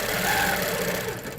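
An HQ Avanté longarm quilting machine stitches in a continuous, loud, buzzing mechanical drone, steady and close for the whole moment without any speech.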